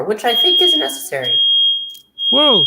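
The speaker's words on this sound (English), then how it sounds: "No, that's just the alarm that the box might be on fire" A smoke alarm sounds a sustained, shrill high-pitched tone that runs beneath a person's speech and carries on after the talking stops, before the voice returns.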